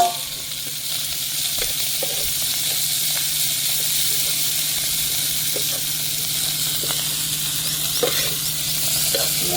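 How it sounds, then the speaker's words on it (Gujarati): Fenugreek leaves (methi) sizzle steadily in a pan with golden-browned garlic, a continuous close frying hiss with occasional soft stirring clicks, no talking. "હવે આપણે નાખી દઈશું મેથી"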